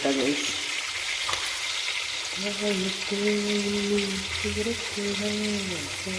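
Steady hiss and crackle of food frying in hot oil, continuous and close, with a voice talking over it for much of the time.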